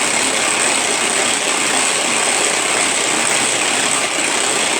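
A Speedy Chef food processor whipping a frothy mixture at speed 1, a loud, steady, close motor whir with a dense buzzing texture that holds constant throughout.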